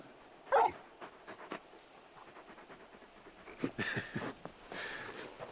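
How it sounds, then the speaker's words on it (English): A large dog in Final Fantasy XVI gives a soft whimper and a few faint yips and pants, quiet and close, with light rustling in the background. "You're just a big puppy, aren't you?"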